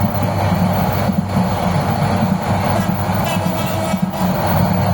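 Steady rumble and rattle of a Bangladesh Railway train running toward Chittagong, heard from inside a coach: loud, continuous low-end roar with faint metallic squeals and no speech.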